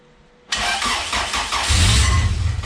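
A Honda H22A engine with its balance shaft deleted and new pistons cranks and catches, settling into a loud, rough idle with a deep, throbbing low end close by, no talk over it.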